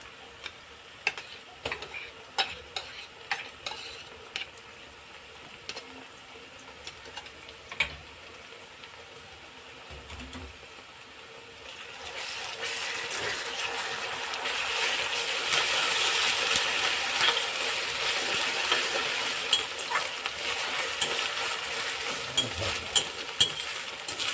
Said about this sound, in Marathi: कांदा आपला चांगला तेलामध्ये फ्राय झालेला आहे आता आपण यामध्ये ॲड करणार आहोत अदरक लसणची पेस्ट